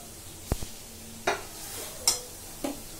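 Cooked toor dal being stirred into roasted flour in a pan gives a few soft scrapes and clinks of a spoon against the pan over a faint low sizzle.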